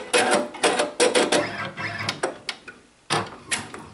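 Brother Persona PRS 100 embroidery machine stitching a letter G onto the back of a hat, a close, busy run of rapid mechanical needle clatter in uneven bursts with brief pauses.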